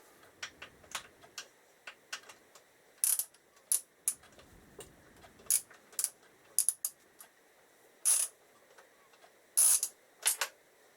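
Hand ratchet clicking in short runs of sharp metallic ticks while loosening bolts on the steering damper of a Suzuki GSX1300R Hayabusa motorcycle, close and distinct, with brief pauses between strokes and no talking.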